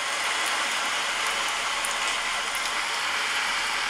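Steady rain from the iPhone Background Sounds feature hisses evenly and continuously, a constant wash of patter without pauses or voices.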